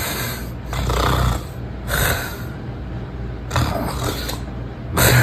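A person snores loudly in repeated labored bursts, each rattling inhale separated by a short pause, close to the microphone and with no talk over it.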